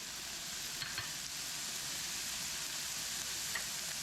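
Peppers and green onion bottoms hit a hot pan and sizzle in a continuous, even frying hiss, fairly soft and steady, with a couple of brief pops and no voices.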